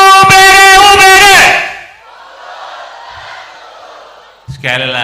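A large crowd of students at a university orientation event at Universitas Bina Darma chants a two-word response in loud unison, then the sound echoes away into murmuring hall noise before a single voice starts up again at the end.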